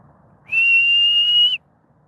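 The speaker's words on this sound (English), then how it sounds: "Of course, you'll hear me whistling through the phone." A person whistles a single clear, steady note lasting about a second, loud and close, starting and stopping cleanly against near silence.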